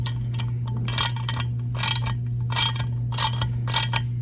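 Rapid ratcheting clicks from a socket wrench turning on an alignment dowel in a Twin-Cam engine case, coming in short bursts of several clicks each over a steady low hum, close and fairly loud.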